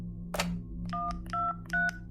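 A sequence of telephone dialing tones, three or four steady dual-tone beeps in an even rhythm after a brief rustle, heard clearly over a low steady hum with no talking.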